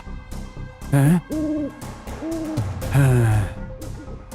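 An owl hoots in a short series of breathy, tonal calls, roughly four distinct hoots spaced about half a second apart, loud and close against a quiet background, as in a Bhojpuri television serial scene.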